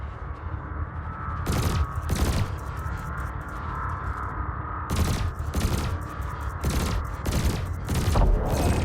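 Ship weapons in Elite Dangerous fire at a canister in sharp, loud bursts, with two short volleys early and a rapid run of repeated shots later, over a steady low engine hum.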